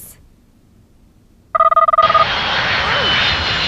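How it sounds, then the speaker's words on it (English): Airplane engine sound effect at an airport in a children's TV show, starting with a pulsing electronic tone that gives way to a loud, steady jet roar, close and sustained. "We're at the airport! Oh, no, look out for the plane, Dorothy!"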